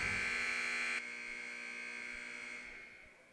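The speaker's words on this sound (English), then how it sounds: "We're having the buzzer go off" A buzzer at a college volleyball game blares loud and steady for about a second, then a lower hum lingers and slowly fades.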